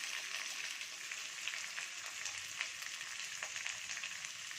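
Green chilies, curry leaves and chili flakes frying in hot oil, a steady close hiss and fine crackle without pause or voices.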